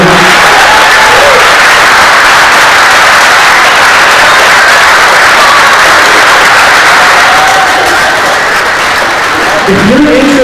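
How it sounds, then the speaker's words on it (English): An audience at a political forum gives a long, loud, dense round of applause for precinct committee officers, steady clapping and crowd noise filling the whole stretch. "you deserve a huge round of applause"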